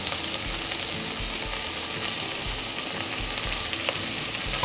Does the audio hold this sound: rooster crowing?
no